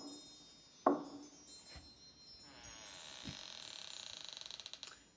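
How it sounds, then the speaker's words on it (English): A door creaks open with a sharp onset followed by a drawn-out, rising squeal that ends in rapid stuttering creaks, fairly close and heard alone in a quiet indoor room. "Door number 3 has now opened."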